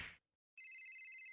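A mobile phone rings faintly with a steady, pulsing electronic ringtone that follows a brief burst of other noise and a short moment of quiet.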